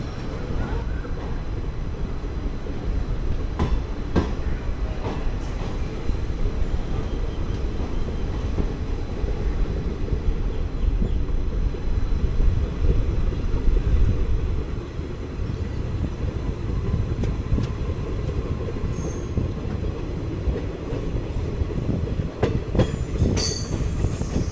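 Guruvayur Chennai Express (16128) running from inside an AC 3-tier coach, a steady loud low rumble of wheels on rail with intermittent clicks and occasional faint squeals throughout, no talk.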